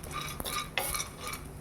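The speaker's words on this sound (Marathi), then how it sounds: "या तेलामध्ये आता आपण हे 1 वाटी सांडगे घेतलेले तिथे घालूया आणि हे चांगले तांबूस असे खरपूस होईपर्यंत भाजून घेऊया" Dried moth bean sandge roast in hot oil in a pan over medium heat, giving a soft sizzle broken by a couple of sharp utensil scrapes and clinks.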